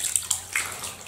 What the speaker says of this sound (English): Just squeeze the water, let it sort of drip over him.